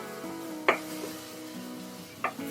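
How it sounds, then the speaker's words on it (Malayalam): Masala for a mutton curry stirred and frying in a pan, a soft continuous sizzle with two sharp scrapes of the spoon against the pan, close up and without talk. "നന്നായി ഇളക്കി കൊടുക്കുക."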